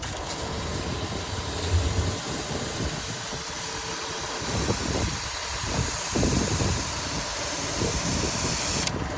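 A pressure washer engine runs steadily during a car wash, a continuous mid-pitched mechanical drone with faint fluctuations and spray hiss, close and fairly loud with no talking.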